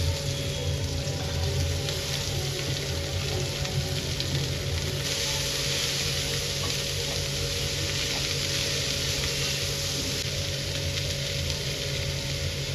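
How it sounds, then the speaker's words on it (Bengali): Green peas frying in a pan over high flame, giving a steady, dense sizzle that holds constant and fairly loud throughout with no talking. "এটাকেও ভাজা হবে একদম হাই ফ্লেমে"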